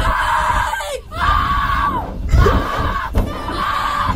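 A rider shrieks and screams loudly on a slingshot amusement ride, the sustained, strained yells broken by brief gaps and rough wind-blasted bursts, close and intense.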